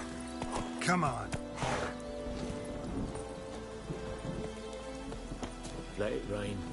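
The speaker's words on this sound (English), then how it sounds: "Let it rain. Wash the blood from the fields." Steady rain pours across the fields in The Witcher 3, a soft continuous wash under game music and the clip-clop of a horse, with a voice speaking over it.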